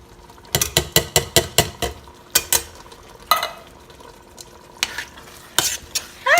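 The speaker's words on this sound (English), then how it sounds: "I'm not gonna drain these beans. I'm just gonna toss them in there." Canned beans with their liquid dumped undrained into a pot of chili, heard as a quick series of sharp scraping, clanking knocks of can and spoon against the pot, then a few scattered wet plops and clatters, close and loud with no talk.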